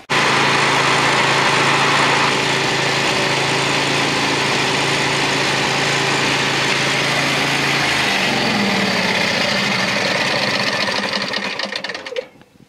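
A ride-on lawn mower's small engine runs steadily at a loud, even pitch with a brief shift partway through, then cuts off near the end, with no talking.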